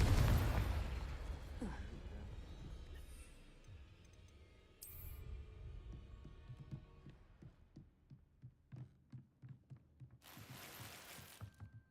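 Confringo blasting spell explosion in the Hogwarts Legacy video game, a loud boom at the start that decays into rumbling, followed by quieter rhythmic thuds and a couple of bright magical whooshes.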